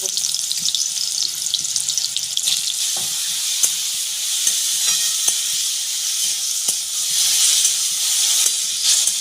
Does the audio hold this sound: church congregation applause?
no